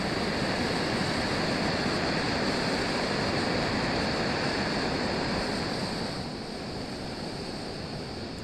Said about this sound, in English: And that goes on to a lovely low simmer.